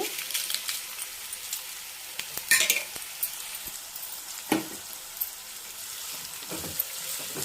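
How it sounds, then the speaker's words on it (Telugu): Dried red chillies fry in hot tempering oil, a close crackling sizzle broken by scattered sharp pops and clinks of a spoon stirring against the pan. "ఎండుమిరపకాయలు వేసుకున్నామండి తాలింపులో."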